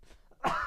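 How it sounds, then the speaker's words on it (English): A single sharp cough bursts out near the microphone after a moment of faint, quiet background. "I don't know why I'm coughing."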